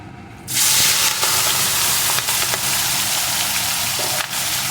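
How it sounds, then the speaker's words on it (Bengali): Marinated prawns drop into hot oil and set off a loud, broad sizzling hiss that holds steady for several seconds, broken by a few sharp crackles and pops. "তেলটাকে আবারও ভালো রকম গরম করে নিয়েছি এখন এর ভিতরে আমি চিংড়ি মাছটাকে দিয়ে দেবো"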